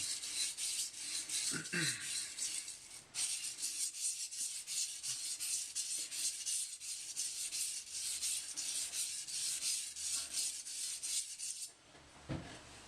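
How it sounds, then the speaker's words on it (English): A Moritaka kitchen knife is drawn over a whetstone in a long run of steady, even rasping strokes, close and fairly quiet, with a brief pause near the start and another near the end. "all I do when I'm sharpening is I concentrate and try to keep that angle the same"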